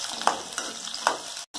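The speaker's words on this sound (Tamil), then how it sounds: "எண்ணெய் காஞ்சிச்சு, நம்ம வெங்காயத்தை போட்டு வதக்கிக்கலாம். அது கூடயே பூண்டையும் சேர்த்து வதக்கிடுங்க." Onion and garlic sautéing in hot oil for a Chettinad-style fish curry, a close steady sizzle with soft rhythmic stirring scrapes, then a sudden brief silence before the frying sound returns.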